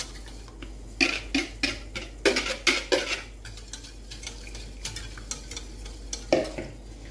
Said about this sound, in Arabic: هنا البنات غادي نخلط داك البيض اللي درتو، نخلطه